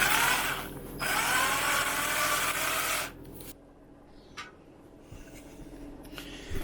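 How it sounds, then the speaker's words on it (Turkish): A power drill whirs loudly and steadily for about three seconds up close, then stops, leaving faint scraping and light tapping. "Şöyle bir buradan delmeyi deneyeceğim."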